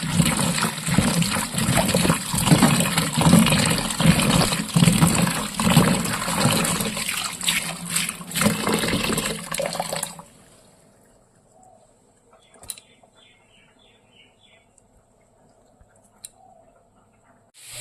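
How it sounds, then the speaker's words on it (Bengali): Running water pours loud and steady over chopped vegetables for a Bengali chochchori for about ten seconds, then cuts off, leaving a quiet room with a few faint clicks and distant bird chirps. "চচ্চড়িটাকে এবার ধুয়ে নিতে হবে"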